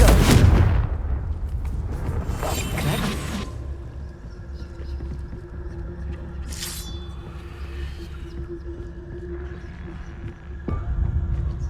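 A Confringo fire spell in Hogwarts Legacy blasts with a sharp booming explosion at the start, followed by crackling bursts and lingering rumbling game effects, a muffled second impact near the end.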